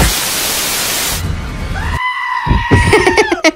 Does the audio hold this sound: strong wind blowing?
no